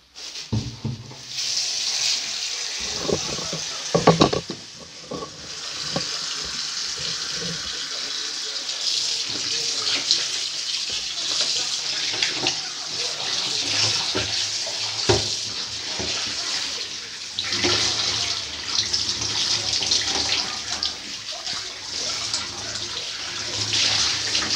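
Tap water gushes steadily into a sink while cut beef feet are washed to make mocotó, a continuous close splashing rush with occasional handling knocks and shifts in the flow throughout.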